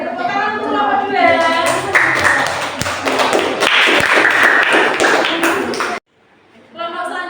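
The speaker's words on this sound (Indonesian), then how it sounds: "beri tepuk tangan untuk kelompok 2" Claps from a classroom of students applauding a group after its presentation, irregular and close, mixed with voices, then a sudden cut to near silence.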